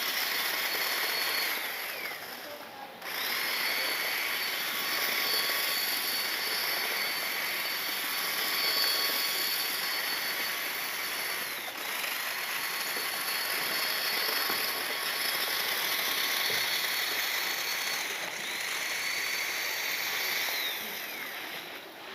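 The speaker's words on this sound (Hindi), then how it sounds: "ये देख सकते हो गाइस जो हमारा ट्रैक्टर है वो कितने अच्छी तरीके से काम कर रहा है।" A small motor in a homemade tractor model whines steadily, high-pitched and continuous, with a brief dip early on and slight rises and falls in pitch.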